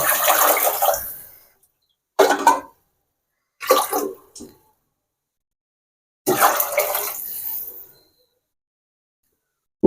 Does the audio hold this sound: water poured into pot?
yes